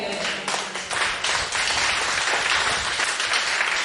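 A church congregation breaks into loud, sustained applause, many hands clapping together in a dense, steady roar that fills the room.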